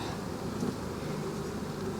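Honeybees on an open brood frame being moved into a nucleus hive, a steady low buzzing hum close by with no talk over it.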